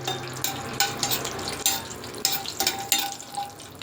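Cashew nuts, left whole, frying in a pan for a wedding-style pineapple kesari bath, giving a steady soft sizzle with bursts of stirring and scraping that recur every half second or so, close by and with no talk.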